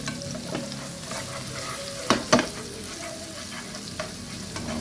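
Onion and garlic fry steadily in a hot pan while a chopstick stirs them, a continuous sizzle broken by a few sharp clicks and scrapes near the middle, close and with no talking.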